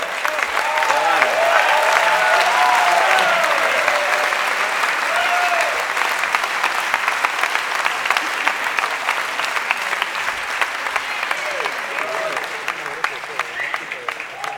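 A large audience applauds at a Cannes 2017 premiere presentation of the film Wind River, with steady sustained clapping throughout. Crowd voices and a voice speaking over the applause can be heard.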